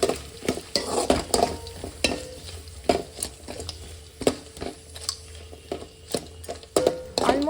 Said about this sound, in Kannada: ಎಲ್ಲ ಒಂದು ರೌಂಡು ಕರೆಕ್ಟಾಗಿ ಮಿಕ್ಸ್ ಮಾಡ್ಕೊಳ್ಳೋಣ ಗೈಸ್.